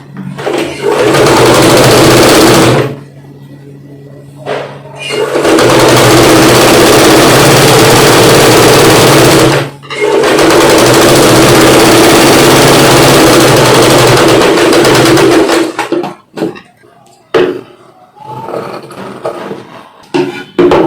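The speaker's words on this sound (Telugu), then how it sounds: "దీన్ని ఈ బ్యాక్ పార్ట్ కింద పెట్టేసి మనం ఒక స్టిచ్ వేసుకున్నాం" Sewing machine stitching the lining of a boat neck blouse, running in loud, steady bursts of several seconds each with brief pauses between, alone without talk.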